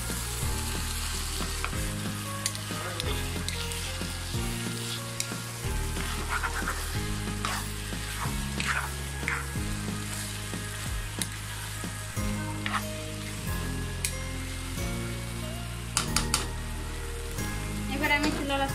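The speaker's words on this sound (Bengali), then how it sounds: "আমি চুলাটা মিডিয়ামে রেখে খুব ভালোভাবে ভেজে নিচ্ছি, এভাবে নেড়ে চেড়ে ভেজে নিচ্ছি" Fish pieces, roe and belly frying on medium heat for macher lotpoti, with steady close sizzling and repeated rhythmic scraping strokes of a spatula stirring through the pan for a long stretch.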